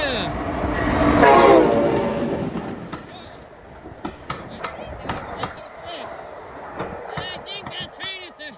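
A train rumbles past close by, loud at first and then fading, while short horn blasts and clattering wheels follow and a voice speaks over it.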